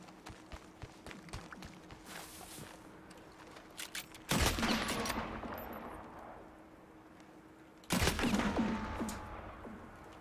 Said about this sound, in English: I hear a lot of ricocheting.